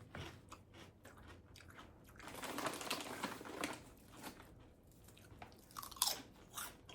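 Biting and chewing on a tuna melt sandwich, close and crisp, with repeated crunchy bites and wet chewing in an uneven rhythm, a little louder in the middle and near the end, no talking.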